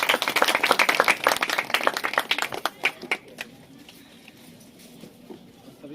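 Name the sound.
audience applause welcoming the preacher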